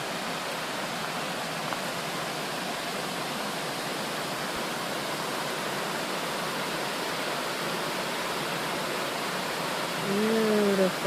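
A waterfall on the Foothills Trail roars as a steady, dense broadband rush that fills the whole scene, with a brief faint voice-like sound near the end.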